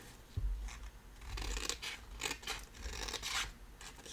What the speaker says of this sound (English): I'm using my tonic snips, which makes life a lot easier when cutting things out